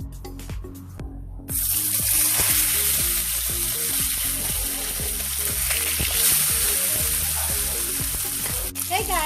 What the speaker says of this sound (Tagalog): ang unahin natin iluto ay ang ating fish. Kailangan muna natin iprito ito.